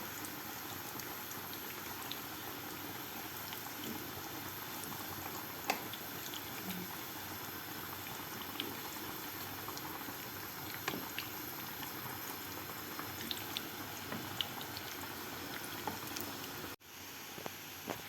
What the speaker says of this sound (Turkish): Şöyle her tarafını çevire çevire kızartıyoruz.